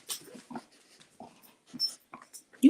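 A dog whimpers and whines in short, separate bursts at close range, with soft breathy noises between them and a louder yelp at the end.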